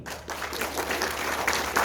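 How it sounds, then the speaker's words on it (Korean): An audience claps through a lecture at a Busan juvenile detention centre, dense and steady applause that swells slightly toward the end. "자, 박수 한번 주십시오."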